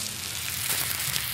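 Burger patties fry in hot oil in a pan, giving a steady, crackling sizzle that stays even and moderately quiet throughout, with no voices.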